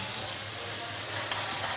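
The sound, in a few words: prawns added to yogurt curry sizzling in pan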